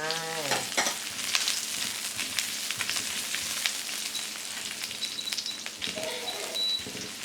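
Garlic frying in a pan until golden gives a dense, steady sizzle with crackling pops and occasional stirring scrapes, close and continuous throughout.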